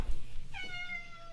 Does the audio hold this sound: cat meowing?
yes